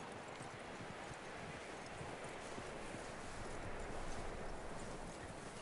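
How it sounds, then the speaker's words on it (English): Horse hooves clip-clopping in Red Dead Redemption 2, a quiet steady patter of hoofbeats under faint rustling and wind, with no talk. "That looks like a decent horse."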